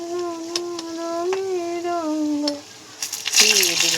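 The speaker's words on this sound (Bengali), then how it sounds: "হয়ে গেল আমার পাতা দুটো ভাজা।" Two leaves fry in a pan: a voice-like tone carries over the first part, then a loud, close, broadband sizzle flares up in the final second.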